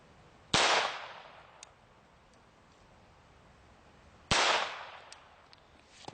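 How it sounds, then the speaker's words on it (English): .22 Long Rifle rounds fired from a pistol strike a titanium plate, two sharp, loud cracks about four seconds apart, each with a quick decaying ring, and silence between them. "Starting it off right with a .22 long rifle out of this pistol."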